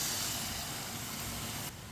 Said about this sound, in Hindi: अब इसमें 2 गिलास हम पानी डाल लेंगे।